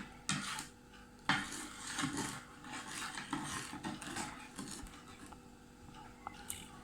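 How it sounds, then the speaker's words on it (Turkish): A spoon stirs water with three spoonfuls of ordinary household detergent to make borax water, giving close scraping and clinking against the container in uneven strokes, with short pauses. "Şimdi karıştırıyoruz arkadaşlar."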